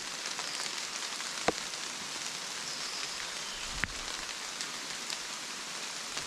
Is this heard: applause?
no